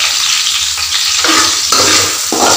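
Sliced onions and white cardamom fry and sizzle loudly in a pan for chicken varuval, with a constant close hiss broken by a few stirring scrapes and no talking.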